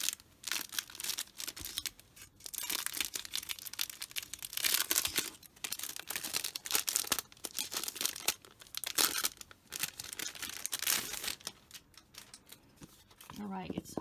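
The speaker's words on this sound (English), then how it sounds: "Let me take this little plastic thing off." Crinkly plastic wrap is peeled and torn off a hardcover Rifle Paper Co. planner in a Wildwood pattern, with close, loud bursts of crumpling and tearing coming in repeated waves across the clip, broken by brief quieter gaps.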